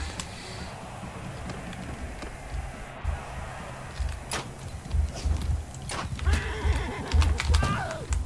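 Horse neighing and hooves clip-clopping in the medieval combat game Mount & Blade II: Bannerlord, with whinnies rising toward the end over battle noise and scattered hoofbeats, fairly close.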